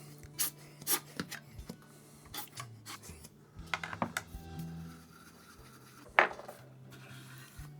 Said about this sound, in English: Kind of turn it with your brush or with your index finger gently.